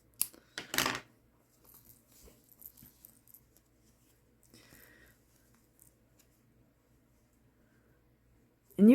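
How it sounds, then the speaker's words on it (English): Scissors snip crochet yarn close by, a quick sharp cut followed by faint rustling and handling of the yarn in an otherwise quiet room. "I'm going to cut my working yarn."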